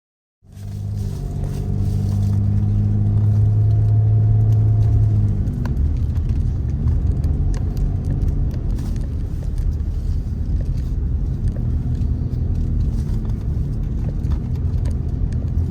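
Car driving around the back of the Penske race shop on a fine day, a steady close engine and road rumble with a brief tonal hum early on, continuous throughout.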